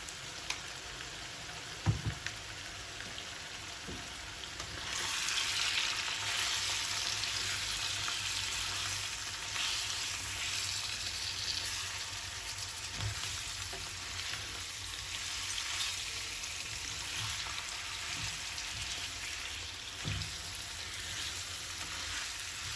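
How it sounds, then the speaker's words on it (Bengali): Chicken pieces with red chilli powder, coriander powder and salt fry in a pan with a steady, close, hissing sizzle that swells partway through, broken by a few soft knocks of stirring. "ঢাকনা দিয়ে মাংসটা কষায় নিব 5-6 মিনিট।"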